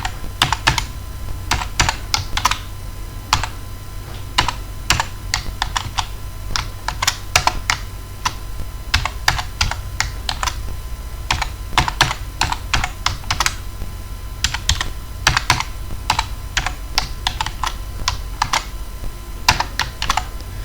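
Programming code for an Arm Cortex M4 UART is typed on a computer keyboard: a continuous stream of close, crisp key clicks in uneven bursts, with no talking.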